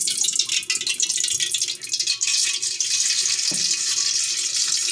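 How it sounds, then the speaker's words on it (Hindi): Half a cup of oil poured into a pan in a home kitchen for aloo matar pulao, a steady hissy splashing wash with a faint clink partway through, no talk. "हाफ कप इसमें ऑयल ऐड किया है।"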